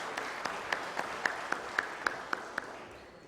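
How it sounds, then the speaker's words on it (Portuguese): Sparse clapping from a few people at a solemn church session honoring guests, a slow series of distinct, fairly faint claps spaced out over a soft room background, fading at the end. "Pedimos uma calorosa salva de palmas aos homenageados."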